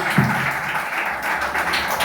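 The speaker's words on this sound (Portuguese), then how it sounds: "dê a sua melhor salva de palmas para Jesus nesta noite" Congregation applause for Jesus during an evening church service, a steady, dense wash of clapping that holds fairly loud through the whole stretch with no voices over it.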